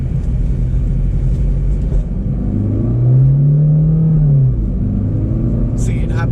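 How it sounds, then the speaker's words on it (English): Inside a 2018 Suzuki Swift Dzire diesel with an automatic transmission, a steady engine rumble rises in a drawn-out rev as the gearbox hangs during a shift, with the cabin drone continuing throughout. "the automatic transmission on this is horrendous. It gets stuck for like 2 seconds while changing gears."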